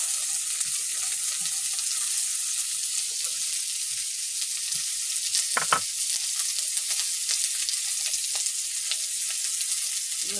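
Chopped onion frying in hot oil gives a steady, bright sizzling hiss throughout, with a few soft stirring scrapes and a sharper crackle near the middle, and no talking.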